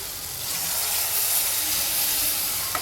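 Loud, steady sizzling hiss of water poured into hot oil with fried spinach and gram flour, a continuous spitting roar throughout with a small pop near the end.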